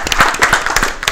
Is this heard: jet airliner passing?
no